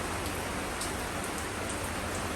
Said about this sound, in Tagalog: Walang tigil na ulan.